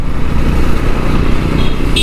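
A motorcycle engine on the move gives a loud, steady low rumble, close and continuous, with wind and road noise blended in and no talking.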